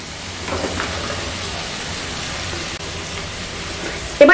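Long beans and chopped onion frying in a pan, stirred around, a steady dense sizzle heard close and alone, with a brief clatter at the very end.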